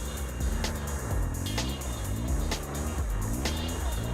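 Triumph Tiger Explorer adventure motorcycle riding off-road, its engine rumbling continuously and rising and falling in pitch as the throttle is worked, with the rear wheel spinning on loose ground, close and steady throughout.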